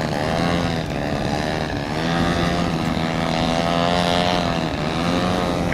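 A model aircraft engine whines steadily through aerobatic maneuvers and a nose-in high-alpha hover over a runway, a loud sustained buzz with slight pitch swells, heard alone without talk.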